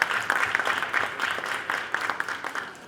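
A large audience claps steadily and loudly for a few seconds, a thick continuous applause with no voices over it.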